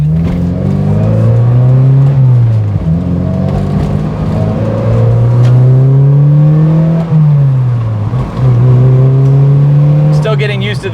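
A car fitted with a new short shifter drives on the road. The engine drones loudly up through the revs, dips at each gear change, then climbs again in a repeating rise-and-fall pattern.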